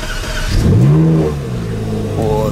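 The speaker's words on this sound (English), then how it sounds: "Cold start." Ferrari 458 Speciale cold start: the engine catches and flares up in a loud, rising rev close by, then settles into a steady, throaty idle.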